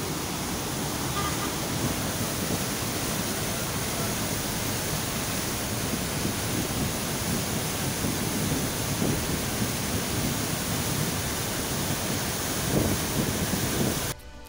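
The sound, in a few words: waterfall flowing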